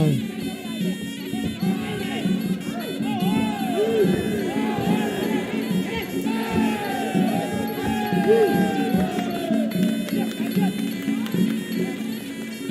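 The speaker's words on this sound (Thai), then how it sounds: "มีเสียงเชียร์มาเลยครับ เจ้าถิ่นเจ้าบ้านแล้วครับ" A home crowd cheers at a Muay Thai fight, with a steady roar, scattered shouts and whoops rising and falling, while an excited commentator talks over it.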